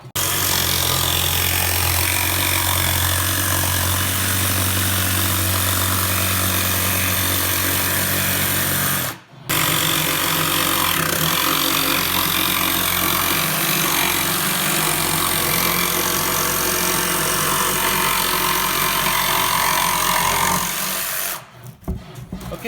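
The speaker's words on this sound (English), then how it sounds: "So now all we have to do is cut it with the jigsaw." A jigsaw cuts a circle out of wood, a loud continuous buzzing rasp running close for most of the time, with a brief pause partway through and a final stop near the end.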